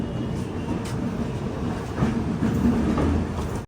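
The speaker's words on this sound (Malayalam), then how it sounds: "വിഴുപുറം റെയിൽവേ സ്റ്റേഷനിൽ ഇതേ നമ്മുടെ വണ്ടി എത്തിയിരിക്കുകയാണ്" Shraddha Sethu Express pulling into Viluppuram Junction, a low rolling rumble of railcars with faint rhythmic clatter and a soft squeal, heard from inside the train amid station noise.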